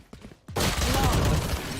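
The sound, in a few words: gunfire in a competitive shooter video game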